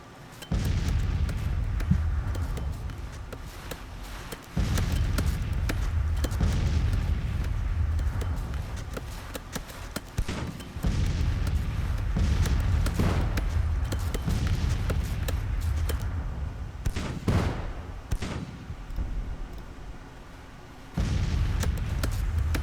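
Artillery booms and rifle volleys from a Civil War strategy game, Grand Tactician: The Civil War, rumbling in long loud dense stretches with brief lulls, heavy low-end roar throughout.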